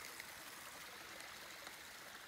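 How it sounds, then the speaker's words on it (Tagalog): A small waterfall in the Norwegian mountains gives a steady, even rush of falling water that stays constant and fairly close, with no voices over it. "Gamay nga falls."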